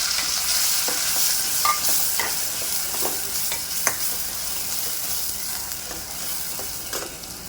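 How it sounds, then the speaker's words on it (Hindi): Chopped onions frying toward golden in a pan make a steady, close sizzle, with intermittent scrapes and light knocks of a spoon stirring them. "बस प्याज को गोल्डन करेंगे हम, थोड़ा जलाना नहीं है"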